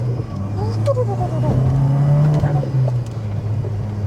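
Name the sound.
bagged Mk2 Seat Leon Cupra R engine revving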